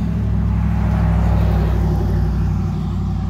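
A car rumbles past at night, a steady low engine and road roar holding loud and close throughout with no voices.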